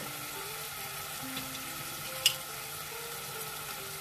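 Curry leaves frying gently in oil over low heat, a faint, steady sizzle with one brief sharp crackle partway through; quiet and close, no voices.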